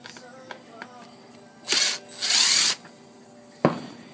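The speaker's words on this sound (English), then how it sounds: "Now we're just going to change here to a screwdriver." A power screwdriver whirs in two short bursts, the second longer and louder, close by during a turbo installation, followed by a sharp clack of a part being set down.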